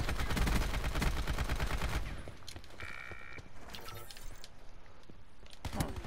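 Rapid bursts of video-game gunfire crackle loudly for the first two seconds, then give way to quieter scattered shots, clicks and game effects, with a sharp shot near the end.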